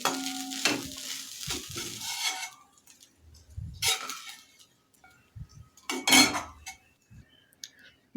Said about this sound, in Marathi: आता ते मी एका प्लेटमध्ये काढून घेते